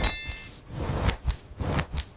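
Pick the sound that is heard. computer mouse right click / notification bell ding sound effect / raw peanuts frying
notification bell ding sound effect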